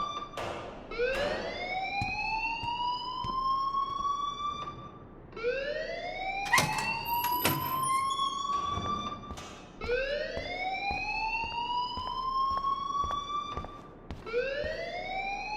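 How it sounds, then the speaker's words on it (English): A school alarm wails in the game Life is Strange, rising in long repeated sweeps about every four seconds, loud and steady throughout with a few sharp clicks between cycles. "please turn off that alarm since that's your job"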